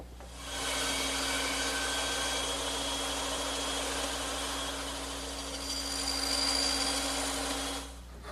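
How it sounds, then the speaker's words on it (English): A bandsaw makes angled tenon cuts for a butler's table, a steady loud whining hum with a sustained tone that runs unbroken for several seconds before stopping. "And I'll make those cuts on my bandsaw."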